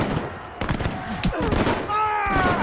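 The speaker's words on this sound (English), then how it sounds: "the first shots are exchanged." Musket volley at a Battle of Waterloo reenactment, a brief crackle of shots over a busy, loud battle din with a voice briefly audible.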